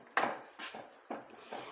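A spoon scrapes and knocks against a pot of brinjal and tomato curry in several uneven strokes, close up, with soft clattering between them and no voices.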